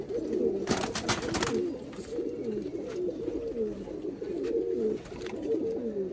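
Soft, repeated pigeon cooing in low rolling phrases, continuing steadily throughout, with a brief burst of rustling near the start.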